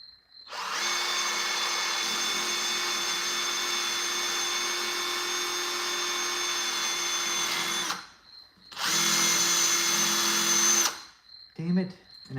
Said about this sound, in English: I'm drilling through 3 pieces of steel at once that's really thick.